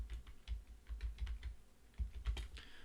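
Soft keystrokes on a computer keyboard come in short irregular bursts, quiet and close, with no talking.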